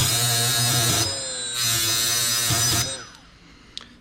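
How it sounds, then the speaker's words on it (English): A Milwaukee M12 FUEL right angle die grinder sharpens a blade with a steady high-pitched whine that holds, dips briefly, rises again, then cuts off and spins down near the end; no talk. "So we're gonna start and sharpen some of these."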